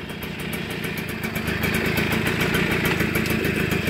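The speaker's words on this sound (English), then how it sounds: "I'm very, very happy with the way it runs" A 1980 Kawasaki KV75 minibike engine runs steadily close by, a fast, even mechanical putter with slight clatter that grows a little louder partway through, with no talking.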